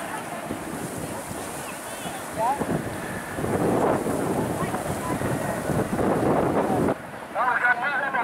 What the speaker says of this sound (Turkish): Dediğim gibi çok kuvvetli rüzgar var.